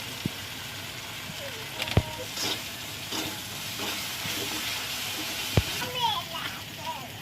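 Cumin powder, chili powder, ginger-garlic paste and turmeric crackle and sizzle in hot oil for doi boal fish, a steady frying hiss with scattered pops and utensil taps, partly under a voice talking.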